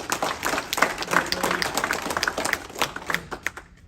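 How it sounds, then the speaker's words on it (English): A room full of people applauds at a lodge officers' installation, steady dense clapping that carries on for several seconds before trailing off. "Let's give him an applause right there."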